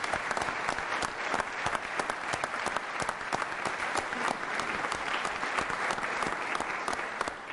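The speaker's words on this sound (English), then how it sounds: "please stand up for a round of applause" Sustained applause from a legislative audience as members of the House and Senate are honored: many hands clapping in a steady, dense roar with no break.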